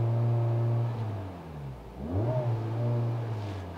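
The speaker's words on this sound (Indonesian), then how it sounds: "Tapi ada dengungan mesinnya ya." A 2023 Honda Civic Type R engine hums steadily at a constant idle drone, then revs up and settles back, close by in a quiet setting while it is stuck on the rev limiter.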